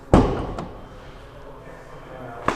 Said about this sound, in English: And then you can open the big door.